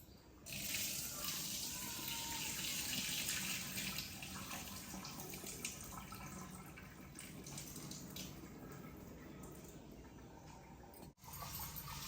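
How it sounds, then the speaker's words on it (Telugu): Urad dal being rinsed under running tap water: a steady, close gush of water pours continuously into a vessel for the full stretch, loud and unbroken apart from one brief dip near the end. "మినపప్పు వేసేసి ఇవి శుభ్రంగా కడుగుదాం"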